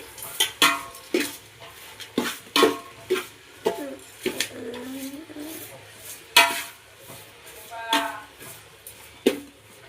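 Puffed rice being tossed by hand with a spoonful of turmeric powder in a bowl, heard as a run of sharp, irregular rustling and clattering bursts, close and moderately loud, with brief softer stretches between them.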